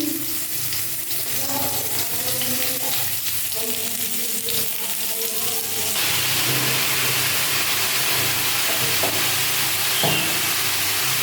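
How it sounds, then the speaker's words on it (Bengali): Masoor lentils boil in a pot on the stove for a sour dal, giving a steady bubbling, simmering hiss at a constant moderate level with faint kitchen clatter. "টক ডাল হবে মুসুরি ডাল দিয়ে এখানে ডাল সেদ্ধ করছি"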